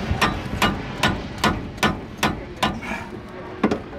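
Ten sharp, evenly spaced metallic hammer blows ring out at a junkyard in a steady rhythm, close and fairly loud.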